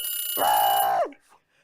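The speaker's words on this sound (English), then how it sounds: "the alarm went off." A loud electronic timer alarm gives one steady high beep for just over half a second, then cuts off into quiet.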